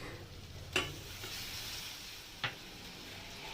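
Raw mango sautéing in a pan with turmeric, chili powder and mustard paste, heard as a low, steady sizzle with two brief scraping stirs, close and quiet, with no voices.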